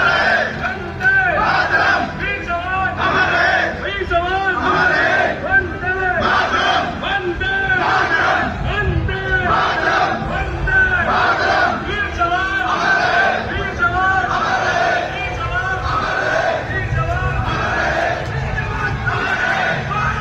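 A large crowd of villagers gathered at a soldier's funeral in Jajanwala, Haryana, chants and shouts together in loud, rhythmic, continuous waves, close and dense.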